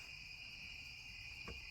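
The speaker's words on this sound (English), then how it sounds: "all you hear are the crickets" Crickets chirp steadily at night outside a lit back-deck porch on a sheep farm, a continuous high trill at moderate distance with no talking.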